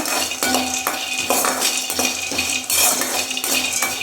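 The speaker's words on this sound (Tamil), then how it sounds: "அதில் வேர்க்கடலை சேர்த்துக்கிறேன். அதை ட்ரையாக வறுத்துக்கணும்." Peanuts dry roasted in a kadai, with steady metallic scraping and clinking of a ladle against the pan in repeated stirring strokes, close and fairly loud.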